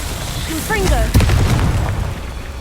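A Confringo fire spell from Hogwarts Legacy bursts with a sharp booming impact and crackling aftermath, preceded by quick whistling magical chirps and followed by lingering rumble; a voice is faintly present.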